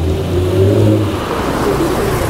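Cars pulling into a busy parking area beside a roadside stop, engines idling and rolling close by in a steady low rumble, with no talk.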